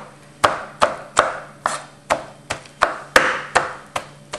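A knife chops raw shrimp finely for wonton filling, with about eleven crisp, evenly spaced chops against a cutting board, close and loud, with no talk.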